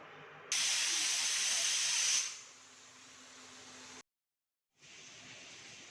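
A pressure cooker boiling raw mangoes lets out a sharp burst of hissing steam for a couple of seconds, then a softer steady hiss continues after a short pause.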